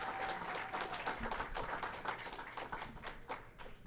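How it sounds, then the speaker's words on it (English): Fairly quiet, continuous audience applause at a history conference, a dense patter of many hands clapping at a steady level without talk. "Give them guys a round of applause."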